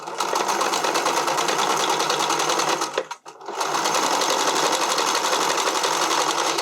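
A sewing machine runs steadily while stitching elastic onto a garment's armhole, its motor close and loud with a dense whirring rhythm, pausing for a split second midway before resuming.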